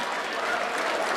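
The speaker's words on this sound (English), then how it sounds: "big round of applause for both of these guys in the main event." Dense, continuous applause from a crowd at a fight event, cheering the fighters after a main-event bout, filling the whole brief moment.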